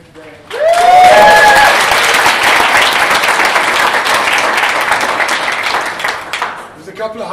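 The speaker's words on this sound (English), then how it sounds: "So just a round of applause for the people that have made it today." A conference audience at a SharePoint Saturday event in Johannesburg breaks into a loud, sustained round of applause that starts abruptly, holds steady, and fades out after about seven seconds.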